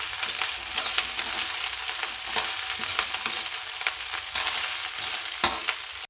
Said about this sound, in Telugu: దీన్ని బాగా కలిసేలాగా తిప్పండి.